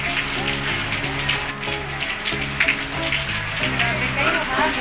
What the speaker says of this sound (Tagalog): lakas ng ulan dito. naulan ng yelo